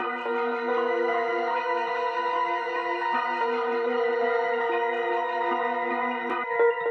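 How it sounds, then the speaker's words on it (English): Dark, tense boom bap loop built in Ableton, layering Rhodes, strings and piano into a full sustained harmonic bed, steady and loud throughout with no drums yet. "So the whole loop that I have now all together sounds like this."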